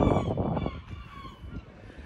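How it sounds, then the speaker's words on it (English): Seagulls call in the harbour at La Rochelle, France, with harsh honking cries near the start that fade into wind noise and a faint, later squawk. "Except for seagulls."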